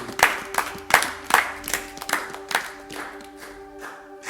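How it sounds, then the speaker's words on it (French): A church congregation at a Sunday service claps in a regular rhythmic beat, about two claps per second, fairly close, with a sustained musical tone beneath that gradually fades. "On applaudit le Seigneur."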